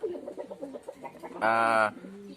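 Noisy pigeons in a loft breeder cage, with soft, close bird calls and murmuring that swell into one louder, sustained call for about half a second before settling back.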